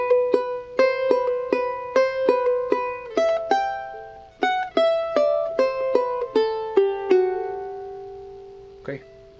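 A charango plays a plucked phrase from a Bolivian taquirari, a steady run of bright, distinct notes close up and alone, ending in a brief faint knock.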